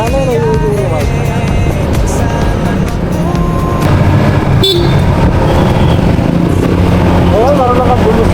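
A vehicle horn toots in short bursts on a road in Tarlac, heard amid steady loud engine and traffic rumble with talk mixed in throughout.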